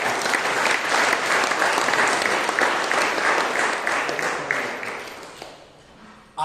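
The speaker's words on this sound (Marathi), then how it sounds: "प्रभूला टाळ्या वाजवूया आपण" An audience at a Christian Advent retreat breaks into loud, sustained applause that holds steady for several seconds, then thins out and fades near the end.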